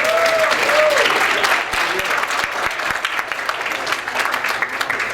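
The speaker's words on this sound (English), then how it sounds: "Let's give a round of applause to the staff here for dinner tonight." Dinner guests applaud the staff at an evening dinner, a steady patter of clapping that runs through the whole stretch without letting up.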